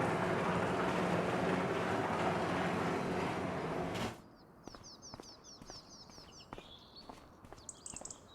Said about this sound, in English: We'll just go ahead and open that door while I'm here.